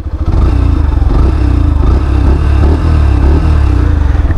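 A 2025 Yamaha FZS version 4 motorcycle engine fires up and settles into a steady, throbbing idle close by, its low exhaust pulse loud and continuous throughout with no talk.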